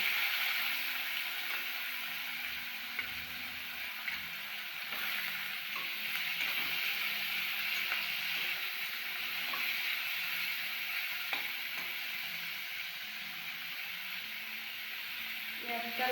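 Onions and bay leaves frying with garam masala in oil left from frying potatoes, during a Bengali mutton curry, give a steady close sizzle with occasional stirring clicks and scrapes throughout.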